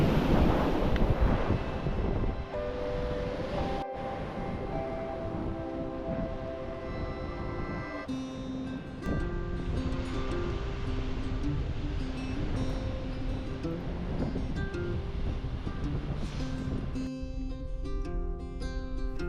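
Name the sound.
beach ambience with wind and surf while walking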